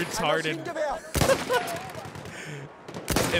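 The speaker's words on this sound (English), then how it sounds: "once you shoot all 5 of your bullets on the 1895, you're out" Sharp rifle reports from the Russian 1895 Trench lever-action in Battlefield 1, a few loud cracks spaced irregularly amid other game noise and faint voices.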